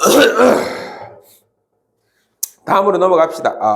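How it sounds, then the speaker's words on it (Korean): A person with a cold clears their throat or gives a short cough between bits of talk, close and fairly loud, followed by a pause and more speech. "자꾸 기침을 해서 죄송합니다."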